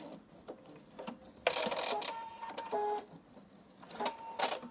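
A sewing machine stitching a backstitch while making a fabric Easter bunny pouch, with short bursts of rapid mechanical whirring separated by pauses, close and fairly loud, no talking.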